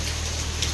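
Steady rain falls in a dark monsoon setting, a dense even hiss with no individual drops standing out, brief and continuous.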